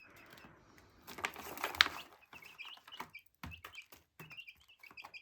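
Chickens cluck softly and peck at leftover food on the ground, producing scattered taps, scratches and low clucks at close range, with one brief louder squawk-like burst near the start of an otherwise quiet scene.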